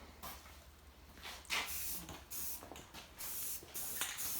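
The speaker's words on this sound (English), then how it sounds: "Hitting it all with self-etch primer." Self-etch primer sprays from an aerosol can onto a Toyota frame during a body mount repair, in short hissing bursts separated by pauses, faint and close.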